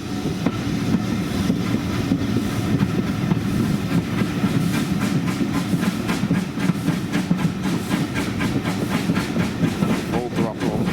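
A Bluebell Railway heritage train runs downhill through a tunnel, a steady enclosed rumble with rhythmic wheel clatter over rail joints and a faint hiss, loud and continuous from close by, with some talk beneath.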